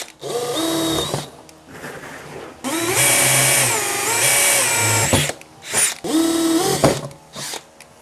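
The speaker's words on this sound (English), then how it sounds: "we're going to start by just drilling a hole in the center of each of these 4 circles." A power drill bores holes through a wooden cornhole board in three loud bursts with short pauses between them. The motor whines up and down during each burst, with no talking.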